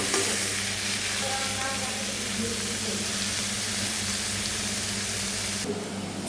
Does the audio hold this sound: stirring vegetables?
yes